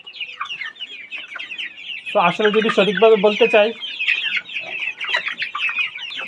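Tiger chickens clucking on a poultry farm, a dense continuous chorus with a loud burst of close clucks midway, while someone talks over them.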